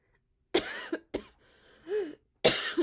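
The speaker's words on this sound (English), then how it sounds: "Why did I just start having a coughing attack?" Several sharp, close coughs in quick bursts, separated by short pauses, with a throat-clearing sound between them.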